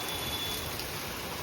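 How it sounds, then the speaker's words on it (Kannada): Rain falling steadily outside during an evening drive, a soft even patter with no voices. "ಮನೆಯಿಂದ ಹೊರಟ್ವಿ, ನೋಡಿದ್ರೆ ಮಳೆ ತಗ್ಲಾಕೊಂಡ್ವಿ"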